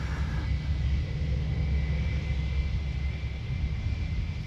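A Royal Jordanian airliner in special livery, arriving from Amman, roars steadily at Amsterdam Schiphol Airport, a loud continuous rumble with a constant engine whine and no voices.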